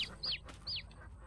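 A chick in Farming Simulator 22 gives two short, high peeps, faint and close, over a low background hum.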